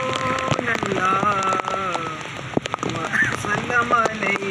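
Heavy rain pours down in Karachi, a dense steady patter heard beneath a man's melodic chanted recitation that carries throughout.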